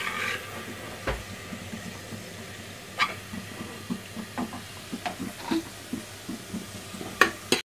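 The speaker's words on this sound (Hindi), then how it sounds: "अच्छे से गोल्डन ब्राउन कर लेंगे और इसे फ्राई करके निकाल" Onions frying in hot oil for mutton korma, a soft steady sizzle with occasional clinks and stirring knocks from a spoon, close by, without speech.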